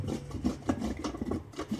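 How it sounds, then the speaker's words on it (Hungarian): Steady rasping scrapes repeat in quick strokes as zucchini is grated on the coarse side of a cheese grater, with a low hum in the background. "És a sajt reszelőnek a nagy lukú részén lereszelem."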